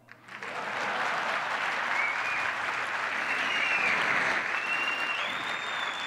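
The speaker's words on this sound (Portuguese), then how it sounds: "Cadê as palmas?" Audience applause at a business and politics forum panel, a dense, steady wash of clapping that swells in quickly and holds loud for several seconds.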